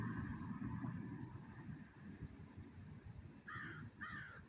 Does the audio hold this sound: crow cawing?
yes